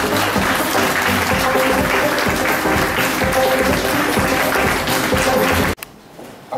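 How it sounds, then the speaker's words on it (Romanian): An audience at a university graduation ceremony claps loudly and steadily in a large hall. The applause stops abruptly near the end and leaves near silence. "Aplauze, vă rog!"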